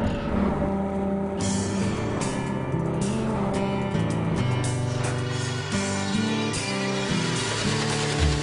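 An outboard engine on an aluminum boat starts and runs with a loud, steady idle, its pitch shifting slightly with throttle and a few sharp clicks and knocks over the drone.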